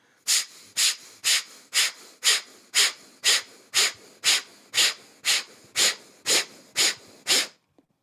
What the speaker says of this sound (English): So we're going to do 15 arm pumps with the breathing.